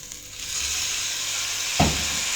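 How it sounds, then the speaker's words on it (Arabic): A spoonful each of turmeric and curry powder fries in a pan with a steady, bright sizzle, broken near the end by a brief clink of stirring. "وهنحمرهم بس كده شويه ياخدوا اللون الاصفر الحلو ده"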